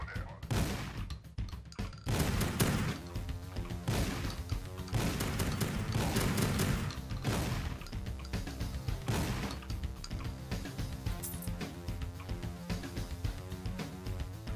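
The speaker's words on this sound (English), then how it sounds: "Good thing I upgraded the shotgun to the rapid fire type." Rapid shotgun blasts from the video game Project Warlock fire in quick succession over loud game music and effects, dense and continuous.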